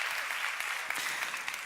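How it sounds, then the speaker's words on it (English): An audience at a 2019 speaker bureau showcase event claps in a dense, steady burst of applause that carries on without a break and fades slightly at the end. "can I just ask that we give a massive round of applause just to USB?"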